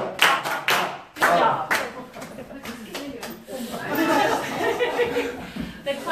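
A group claps hands in bursts during a laughter exercise at an open house, sharp rhythmic claps at first giving way to chuckles and laughter, with voices mixed in throughout.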